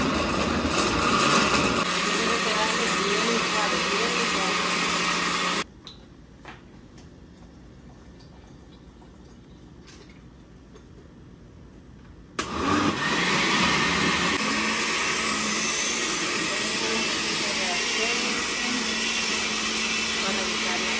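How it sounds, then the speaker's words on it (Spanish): Blender blending pozole ingredients: loud, steady motor whir running for several seconds, cutting off into a quiet pause, then starting again at the same roar and running to the end. "Vamos a licuar."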